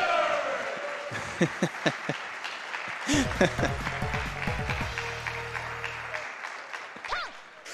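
An audience at a Mega Man 8 speedrun event applauds in a loose, close burst of clapping while people talk over it, alongside chiptune game sounds.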